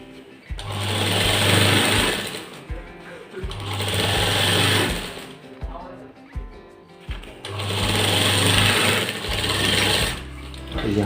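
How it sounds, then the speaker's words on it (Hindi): A sewing machine runs a double-thread seam on the inside of a shirt collar in three long, loud, steady bursts with brief pauses between them, close by and alone. "हम 2 सूत की सिलाई लगाएंगे"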